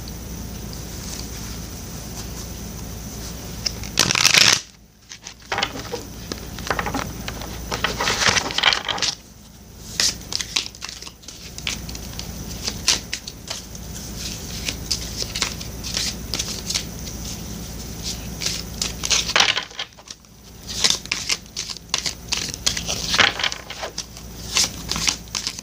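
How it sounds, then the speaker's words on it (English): Tarot cards are shuffled repeatedly at close range, with riffling and sliding bursts separated by brief pauses over a soft background hiss. "one more shuffle and I will cut for you, Taurus."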